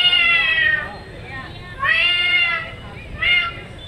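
A person mimics a cat, giving three drawn-out, nasal meows separated by short pauses, close and fairly loud with nothing else behind them.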